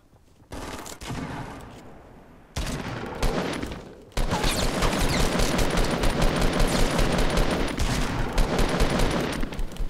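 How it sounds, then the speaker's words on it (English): Rapid gunfire in a Fortnite match, a loud burst of repeated shots that starts after quieter game sounds and carries on as a dense, sustained volley. "let me kill him with my pistol"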